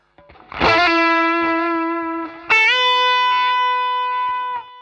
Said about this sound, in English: the last one is like 800 millisecond delay. It's more like a Jeff Beck thing